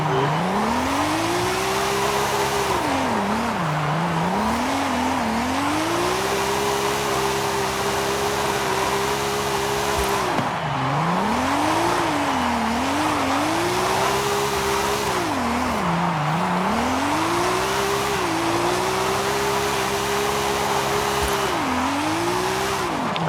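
A Nissan R32 drift build in Forza Horizon 5, its engine droning loud and close while revs swing up and down in repeated cycles through figure-eight slides, with continuous tire squeal, no talking.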